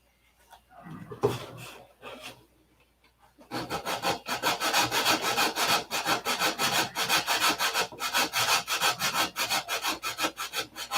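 Hand sanding on wood: after a brief scrape and pause, a rapid run of rhythmic back-and-forth rasping strokes, close and steady, with no talking.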